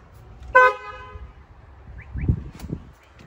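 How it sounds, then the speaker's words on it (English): A BMW F80 M3 horn gives one short, loud toot being tested after replacement, followed by faint clunks and knocks nearby. "let me just double check the horn is fixed"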